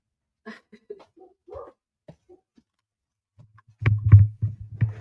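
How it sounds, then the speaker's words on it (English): Pointer hunting dogs bark indoors in a short burst of several loud, close barks near the end, after a stretch of faint scattered sounds. "So I may have to put them in their cages because they are barking"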